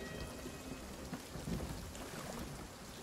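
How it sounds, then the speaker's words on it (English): Rain pours steadily in a stormy sea scene in Sea of Thieves, a broad continuous wash with low rumbles of thunder and sloshing water beneath, fairly even in level throughout. "Look at that storm."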